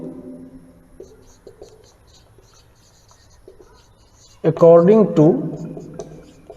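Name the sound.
writing on a board during a lecture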